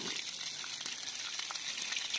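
Water from a stream, fed by gravity, running from a tap on a rural plot, a steady close hiss and splash with faint sputtering.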